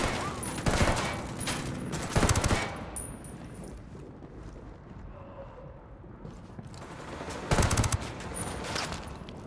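Automatic gunfire in the shooter game Ghost Recon Wildlands, bursts of rapid shots opening the clip and returning near the end, with quieter ambience between.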